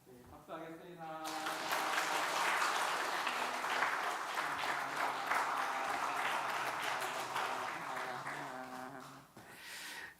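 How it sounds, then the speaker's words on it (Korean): A Korean church congregation breaks into applause for a children's award certificate, with a dense wash of clapping that swells after a brief spoken lead-in, holds steady for several seconds, then fades as a voice returns. "박수하겠습니다."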